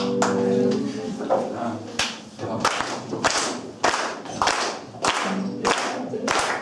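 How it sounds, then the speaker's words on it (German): An audience claps along in a steady rhythm at a live country music show, sharp, evenly spaced claps about twice a second over the music and loud throughout. "Wir müssen klatschen."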